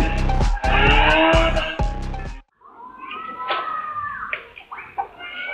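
Car drifting on CCTV, with a loud roaring engine and squealing tires for about two seconds, then a brief gap and thinner high squeals and skidding at a distance.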